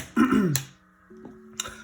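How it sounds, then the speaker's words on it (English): A single close throat clearing, a short rough rasp followed by a low vocal hum. "I feel like I'm trying to cough"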